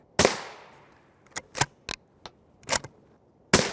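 Rifle shots of M855 rounds striking a body armor plate: one sharp crack with a ringing decay, then a handful of quicker, smaller impacts and a final loud crack, alone with no speech.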